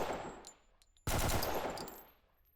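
Gunfire in the Delta Force Xtreme 2 video game: a few faint single shots, then a loud sudden burst of rapid automatic fire that rolls on and slowly fades out.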